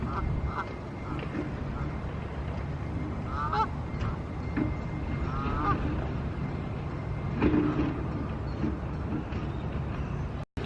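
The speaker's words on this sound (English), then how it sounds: "there's some Canadian geese over there" Canada geese honk and call repeatedly at a moderate distance on university grounds in Birmingham, over a steady outdoor background rumble, with no one talking.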